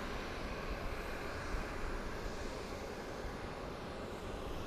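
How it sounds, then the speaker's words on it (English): A Southwest airliner taxiing slowly at Phoenix Sky Harbor International Airport at night, heard as a steady, distant broadband engine rumble and whoosh that holds level throughout, with no voices. "We have a Southwest moving slowly. Taxiing."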